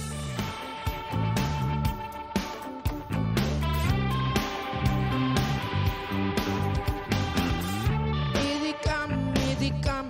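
A pop trio plays a song live in a studio, with full band instrumentation, driving drums and bass, and steady rhythm throughout.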